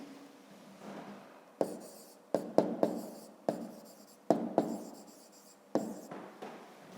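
Pen writing on paper while working a Grade 5 geometry exercise, a series of sharp scratchy strokes and taps at close range, with short pauses between words and no talk.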